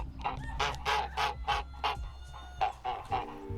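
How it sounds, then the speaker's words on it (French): Farm geese honk in a rapid run of loud, close calls, about a dozen in a choppy series with short gaps. "Et là, il y a des oies qui m'ont saoulé toute la nuit."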